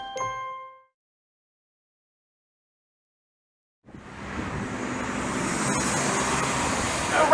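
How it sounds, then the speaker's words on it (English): Viva rapid transit vehicle riding on the Rapidway, a short chime, then silence, followed by a steady rising cabin rumble of road and motor noise that builds and holds. "riding a Viva vehicle"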